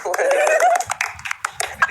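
A short burst of close, scattered hand clapping follows a brief voice and quick laughter, lasting under two seconds.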